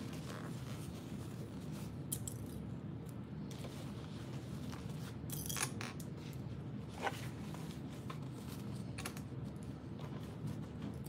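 Scissors snip through backpack lining fabric in a quiet room, making faint, scattered crisp clicks and cuts at irregular intervals.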